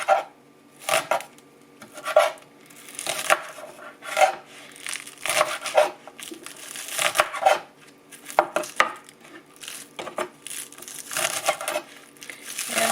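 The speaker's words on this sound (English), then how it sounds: "cut these into small pieces like this" A knife chopping green beans into small pieces on a cutting board, a run of crisp, close, uneven chops and taps that keeps going without talk.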